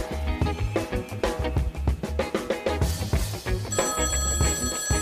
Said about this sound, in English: can you get that? It's the listener feedback phone.